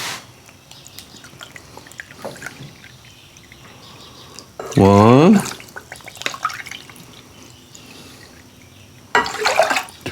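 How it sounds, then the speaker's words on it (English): About two cups of water are poured into a pot while making sugar-free moonshine, a loud, close, one-second gush whose pitch rises as the pot fills. A person talks before and after the pour. "And we need 2 cups of water. And we'll put that in a pot."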